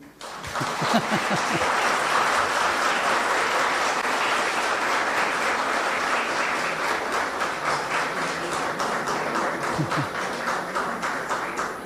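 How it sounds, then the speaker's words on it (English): A conference audience at an insurance conclave gives a principal a long round of applause, a sustained, even wash of many hands clapping after a brief start, fading slightly toward the end. "Again, give a big clapping to him."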